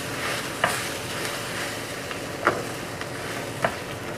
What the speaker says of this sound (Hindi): इनको अच्छी तरह कर लेना है मिक्स।